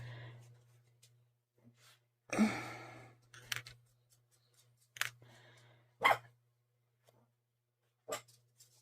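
A dog barks several times, sharp single yelps separated by irregular pauses, close by, over a faint steady low hum.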